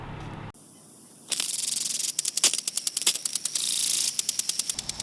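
A hose-fed impact lawn sprinkler starts up on household water pressure, hissing spray broken by a rapid series of sharp ratcheting clicks as the head turns, close and loud.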